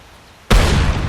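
A frag grenade detonates in the shooter game Hired Ops: after a quiet half second a single loud, broadband boom hits suddenly and its roar holds strong to the end without fading.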